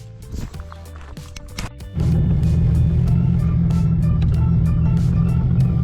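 A Nissan 350Z drift car with a stage 3 clutch and lightweight flywheel idles with clicking, then its engine settles into a loud, steady, close rumble that continues to the end.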